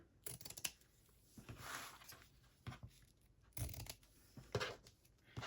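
Scissors snip thread ends on a hand-sewn spring journal with paper pages, a few quiet crisp cuts spaced apart with soft paper handling between them.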